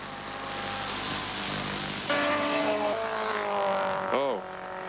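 A 1980 Hardie-Ferodo 1000 touring car at Bathurst roars down Conrod Straight, its engine note climbing through gears with a sharp pitch sweep near the end, while a commentator talks over the top.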